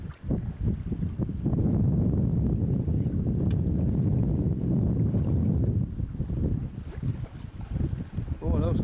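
A boat's outboard motor runs wide open on a bay, a dense steady roar heavily buffeted by wind noise throughout.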